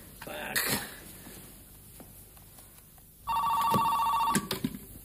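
An electronic telephone ring sounds in a sustained burst near the end, following a quieter stretch with a brief earlier chirp and faint background noise.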